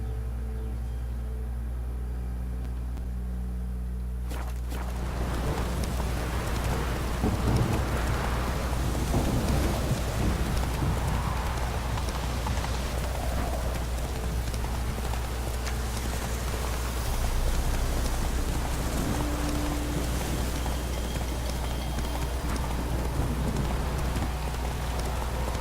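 Steady downpour in a video game storm, dense rain pattering on surfaces after a brief quieter opening, with faint distant thunder rolling underneath and no speech.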